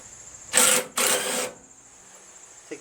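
Bolts being loosened from a panel assembly on a Cub Cadet 13 HP Kohler Command lawn tractor, heard as two close, buzzing bursts of a power tool, each about half a second long, followed by quiet.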